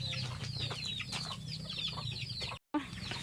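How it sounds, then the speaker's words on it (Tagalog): Chickens cluck on a farm, many overlapping clucks and squawks at close to middle distance with a steady background, broken by a short gap near the end. "Nagkakatay ng manok"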